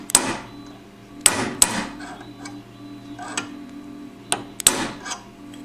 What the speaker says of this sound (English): Grab a tiny key and just tap the collar back to its place.